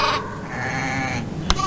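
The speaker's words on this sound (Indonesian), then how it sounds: "jadi tadi itu adalah suara domba ya Kak Alvin dan adik-adik" A sheep bleats in a long wavering call close by, followed by a brief sharp click and the start of another bleat.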